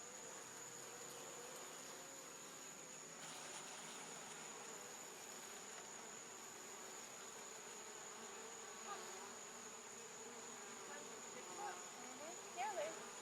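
Bees swarm and buzz steadily around a hive built inside a propane tank, a dense continuous drone with occasional louder passes near the microphone and a faint voice in the background.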